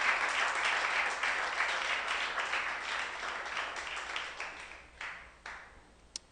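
A church congregation applauds during a sermon, a fairly distant wash of clapping that thins out and fades into scattered claps toward the end.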